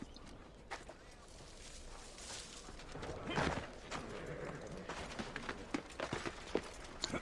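Soft hoof clip-clops from a horse in a video game patter intermittently in the background, fairly faint, with scattered louder thumps near the end.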